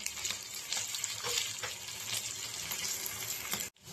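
Tempering spices for sambar sizzle and crackle loudly in hot oil in a home kitchen pan, a steady dense fry with small pops, cutting off abruptly near the end.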